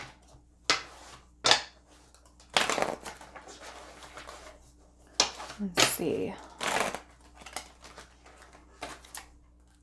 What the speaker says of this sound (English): This deck does not want to be shuffled today.